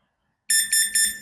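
A Dahon bicycle alarm gives three quick, loud, high-pitched arming beeps in a row after a moment of silence, close by.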